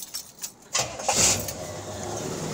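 A 1969 Pontiac Bonneville's 428 V8 with a four-barrel carburetor cranks and catches, then settles into a steady, rumbling exhaust note. A brief rattle comes first, and the engine sound is close and fairly loud.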